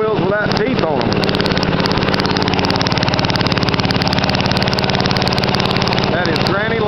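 A small engine on a homemade mini dozer chugs steadily in low first gear, a close, loud, even mechanical drone with rhythmic pulsing throughout, and someone talks briefly over it at the start and end.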